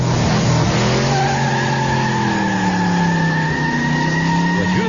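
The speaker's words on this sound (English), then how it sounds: "What you've just heard is another car being stolen." A car is being stolen: tires squeal and skid in long drawn-out wails while an engine roars continuously, loud and close with no talking.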